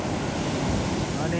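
Rough, stormy sea surf churns and crashes against the shore during heavy rain, a dense, loud, steady roar of breaking waves mixed with wind.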